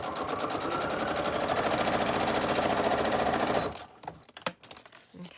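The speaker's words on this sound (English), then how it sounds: "I'm going to turn it over, and I'm going to just stitch right the way around" A sewing machine stitches around the edge of a Christmas accordion folio in a fast, steady rattling run for several seconds, then stops, leaving a few soft handling clicks and bumps.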